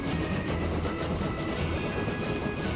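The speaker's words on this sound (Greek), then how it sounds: "και αυτό το τρένο να πηγαίνει." A train rolls along in the video game Transport Fever, producing a steady, dense rumble and rattle that holds at an even level throughout without pauses.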